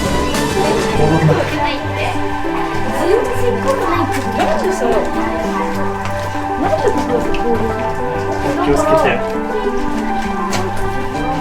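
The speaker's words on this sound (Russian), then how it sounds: "Капает с потолка, поэтому здесь мокро и довольно скользко." Water dripping from the ceiling of a cold, wet Aokigahara lava cave, scattered drops landing under steady background noise while someone talks.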